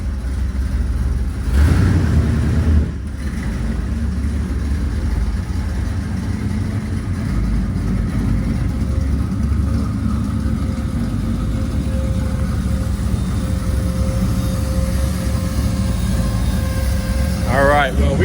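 A 1966 Chevrolet C10 pickup, started for the first time in three years, runs steadily at close range with a sharp rev early on, then settles into a rough, uneven idle.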